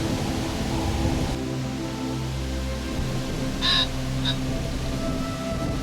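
Two short calls from black-headed gulls cut through a constant rush of wind, one after the other a moment apart.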